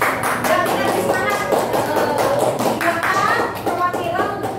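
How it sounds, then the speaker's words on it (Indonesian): Classroom applause breaks out for a group that has just finished presenting, a burst of many hands clapping up close with some children's voices mixed in. "kita beri tepuk tangan"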